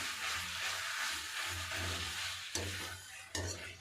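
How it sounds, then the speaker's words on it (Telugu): Ingredients for a Telugu tribal-area dish made with kanchedi flowers being mixed in a cooking pan, a soft sizzle under a few scraping stirs, with two sharper clinks of the utensil against the pan near the end. "దీన్ని మనం ఇప్పుడు వేసి వేసిన తర్వాత బాగా ఇలాగా కలపాలి"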